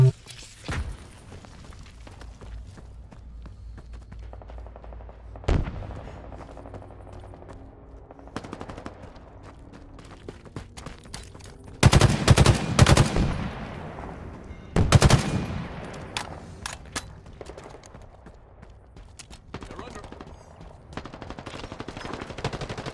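Rapid bursts of automatic gunfire from Halo Infinite Attrition multiplayer, with sharp loud volleys clustered in the middle and scattered shots and game announcer voice elsewhere.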